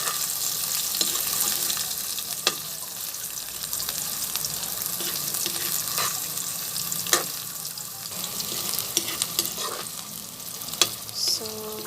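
Onions sizzle and fry in a pan while being stirred for a patola and sardine dish, a steady, close frying hiss broken by occasional clicks and scrapes of a utensil.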